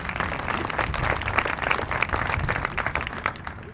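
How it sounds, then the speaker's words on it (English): Steady applause from a Schutzen Club event audience at the 1995 USA Nationals, dense clapping sustained evenly through the whole stretch without a break. "A round of applause for them"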